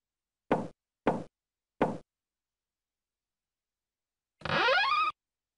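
Three sharp, evenly spaced knocks on a yellow door ring out close and clear, followed after a pause by a brief bright twangy sound.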